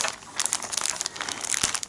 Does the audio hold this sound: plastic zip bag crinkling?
yes